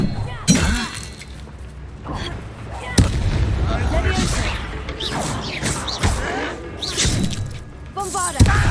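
A Bombarda blasting spell goes off in Hogwarts Legacy as a loud explosive burst among repeated combat impacts, crashes and shattering effects, with a voice calling out over the battle noise.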